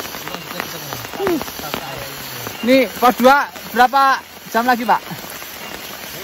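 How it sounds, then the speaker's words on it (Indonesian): Rain falls during a hike on Mount Raung in Java, a steady hiss in the background while people talk and call out over it. "Sudah diguyur hujan."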